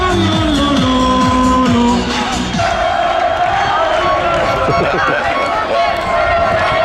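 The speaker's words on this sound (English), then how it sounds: "You can see the Valeo fans are cheering in the stands" Football fans cheer in the stands at a youth cup final match, a loud crowd roar with shouts and whoops running throughout, with a commentator talking over it.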